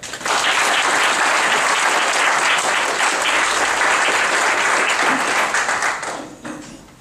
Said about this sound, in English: A round of applause for our young man,